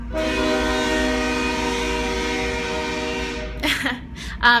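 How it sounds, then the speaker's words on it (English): A train passes right in front of a store, its horn blaring loud and sustained for several seconds before cutting off, followed by rumbling wheel and car noise as it rolls by. "So there's a train that's about to go by, so I'm sorry if it's gonna get really loud."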